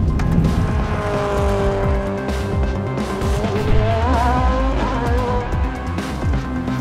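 Car driven hard in rally style by a former Renault Formula 1 racer, engine roaring loud and close with high, wavering tire squeals rising and falling as it slides, no voices.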